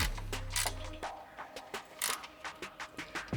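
A ratchet with a 10 mm socket tightens a bolt on a Cybertruck front bumper, giving a run of quick, close metallic clicks in uneven bursts.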